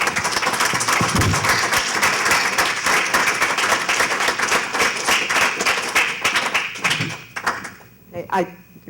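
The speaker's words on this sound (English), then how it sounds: "let's have a round of applause for our panelists" Audience applause for the panelists at the close of a public program on local news, loud and sustained broadband clapping that tapers off in the last two seconds, with a voice briefly audible near the end.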